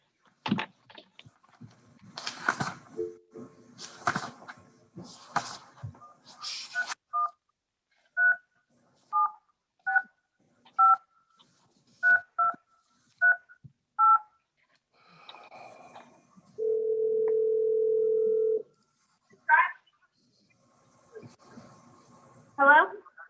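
A telephone keypad beeps out a phone number in short, evenly spaced touch tones, then a steady dial tone hums for about two seconds, followed by a few faint rustles and clicks.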